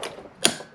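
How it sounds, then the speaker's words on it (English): A torque wrench on a Honda NC700X motorcycle wheel gives a single sharp, close click at 75 newton metres while the axle is tightened, heard alone in a quiet space. "Wait till you hear the click."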